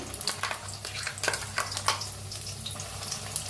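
Masala paste sizzles in hot oil in a kadhai, a soft steady crackle punctuated by sharp spitting pops and stirring scrapes, fairly close and moderately quiet.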